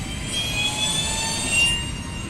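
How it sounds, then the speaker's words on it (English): An aircraft air start unit running, a steady loud roaring whine with a constant rushing drone, close by and unbroken throughout with no talking. "If anyone ever wonders what a air start unit sounds like,"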